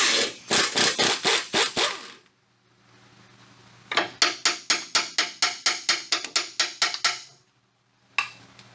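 A Ford Explorer tie rod end being unbolted, with close, loud bursts of rapid ratchet clicks in two long runs separated by a pause, then a short final burst.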